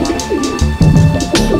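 A pigeon coos close by at a city railway station, several soft throaty rolling calls in quick succession with short pauses between them.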